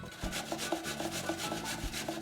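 Green banana rasped against a metal kitchen grater for a Jamaican banana dumpling, steady rhythmic scraping strokes about every quarter second, close and fairly loud with no talking.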